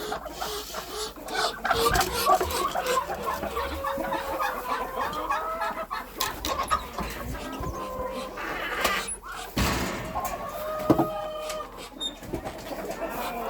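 Chickens and a dwarf rooster in a poultry yard with geese nearby, repeated clucks and squawks rising over a busy barnyard background, close and loud, with occasional voices.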